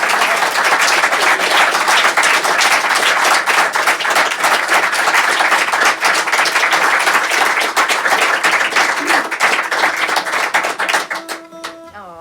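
Audience applause after a live song at a studio concert: dense, steady clapping from a small crowd, loud and sustained for about eleven seconds before thinning out, with a few guitar notes emerging at the end.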